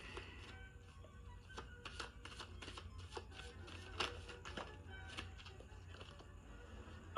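Light cardstock oracle cards are being shuffled by hand, giving soft, quiet, irregular riffles and taps with a few sharper snaps at close range, and no talking.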